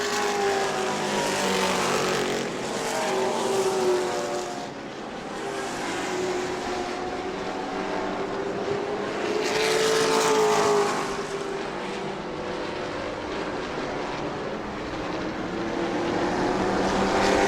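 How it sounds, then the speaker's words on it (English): Pro Truck racing trucks roar around the New Smyrna track, engines droning loud and continuous with rising and falling passes, no voices over the din. "Lapping the 2 of Randy Kuhn as we approach the halfway point of this one."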